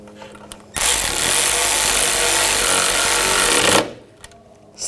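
Power tool tightens the nut on a rear shock level sensor of a 2000–2006 BMW X5 in one loud continuous rattling burst of about three seconds, close by, with quiet shop sounds before and after.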